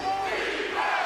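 Basketball arena crowd during a game swelling into a loud, sustained roar of cheering that holds steady without a break.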